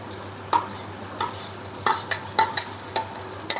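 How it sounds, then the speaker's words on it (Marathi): Vegetables tipped onto sizzling onions in a frying pan for an egg roll, then stirred with repeated sharp scrapes and clinks of a utensil against the pan over a continuous hiss of frying. "पहिले मी भाजी टाकून घेते"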